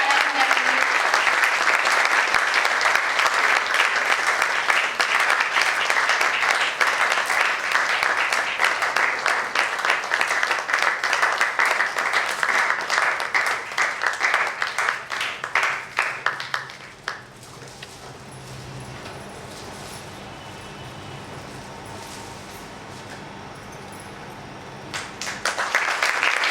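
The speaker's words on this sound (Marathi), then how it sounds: "जोरदार टाळ्या झाल्या" Loud, sustained applause from an audience at a ceremony releasing a souvenir booklet, strong for about seventeen seconds, then falling to lighter scattered clapping before swelling again briefly at the end.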